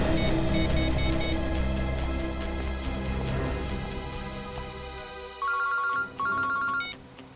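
An electronic phone ringtone plays a melodic pattern over music, then turns into repeated beeping rings in two bursts near the end.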